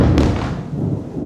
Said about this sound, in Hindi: आसमान जो है ना बिल्कुल गरज रहा है